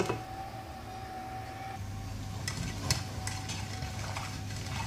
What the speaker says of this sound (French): il ne faut pas hésiter à bien remuer pour que ça ne colle pas